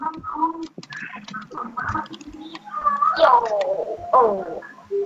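Cat meows from the Minecraft video game, a few drawn-out calls rising and falling over game sounds and background music, fairly close and clear, with some talking mixed in.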